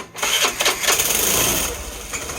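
Suzuki Burgman Street 125 scooter engine with an idle control fault, revved by small throttle blips; a close, steady broadband engine drone with a sharp start, holding strong for a couple of seconds before easing slightly.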